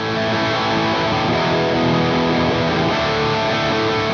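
Two layered rhythm guitars play together, one bright and clean, the other darker with heavy distortion, forming a dense, sustained wall of chords that stays loud and steady throughout.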